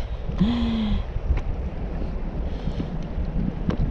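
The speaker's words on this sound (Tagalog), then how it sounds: "Medyo malakas-lakas pa yung hangin" Gusty wind buffets the microphone in the open while fishing, a rough continuous rumble rising and falling, with a brief tonal whine near the start.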